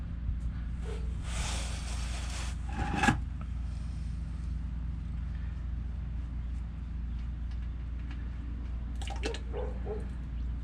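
Transmission oil drips and trickles from the drain plug opening of a Freightliner Cascadia with a DT12 gearbox, a faint, close liquid patter over low background rumble, with a brief clatter near the start.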